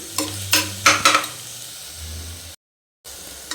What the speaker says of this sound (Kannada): ಒಂದು ಟೂ ತ್ರೀ ಮಿನಿಟ್ಸು ಲೋ ಫ್ಲೇಮಲ್ಲಿ ನೀಟಾಗಿ ಫ್ರೈ ಆಗಲಿಕ್ಕೆ ಬಿಡಿ